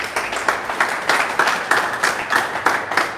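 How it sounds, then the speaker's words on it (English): An audience claps in a steady, rhythmic beat, about three claps per second, loud and close, with no other sound. "Clap for Mr. Hussein."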